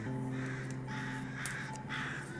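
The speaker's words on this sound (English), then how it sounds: "Let me know if the crows are annoying." Crows caw in a few harsh calls outside an open window, fairly distant and faint over a steady indoor hum, with no talking.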